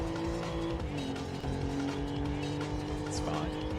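A car oversteering and skidding in the PS1 racing game Need For Speed: High Stakes, with a brief tire squeal over the steady engine whine of the race car, and a voice talking over it.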